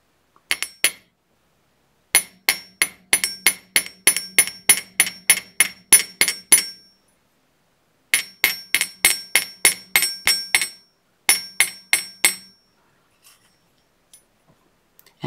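Small metal hammer taps on a wire earring hook, struck to harden it on a hard block, in quick rhythmic runs of sharp clinks with brief pauses between bursts, close and alone.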